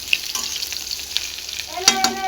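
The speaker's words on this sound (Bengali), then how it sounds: "ফুলকপি, সজনের ডাঁটা, আলুটা ভালো করে ভেজে নিলাম" Cauliflower, drumstick pieces and potato strips crackle steadily as they fry in hot oil, with a close, continuous sizzle and a few sharp stirring clinks near the end.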